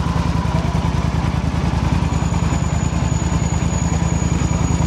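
A Yamaha Super Tenere motorcycle engine idling steadily, a close, even, low rhythmic thrum with a faint high whine joining partway through, no voices over it.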